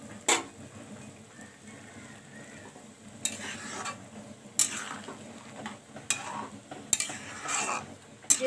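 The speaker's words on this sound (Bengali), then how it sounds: "এবার আমি এর মধ্যে চিংড়ি মাছগুলোকে দিয়ে দিচ্ছি" Prawns going into a pot of jackfruit curry and being stirred: a low simmering bubble broken by several bursts of spoon scraping and clatter against the pot, close by, with no speech.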